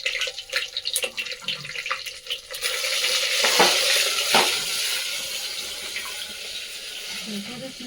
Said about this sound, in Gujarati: સરસ મજાની રીંગણી વઘારી નાખી।